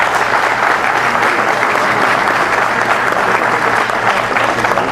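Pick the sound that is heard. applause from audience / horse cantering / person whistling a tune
applause from audience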